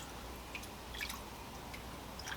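Water drips and trickles back into a container of blue RIT dye as a boar skull is lifted out, a few faint scattered drops and splashes against a quiet background.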